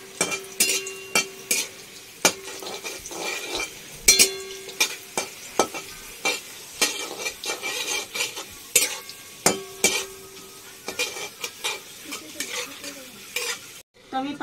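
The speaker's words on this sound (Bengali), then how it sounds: "এরকম করে আমি প্রতিটা পাঁপড় ভেজে নেব।" Torn pieces of raw papad fry in hot oil, crackling and sizzling under repeated sharp clicks and taps of a utensil against the pan, close and fairly loud, with no talk.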